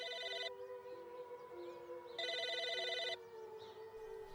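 Two bursts of a trilling electronic telephone ring in the Psychonauts video game, each lasting about a second, with a steady game ambience underneath and no voices.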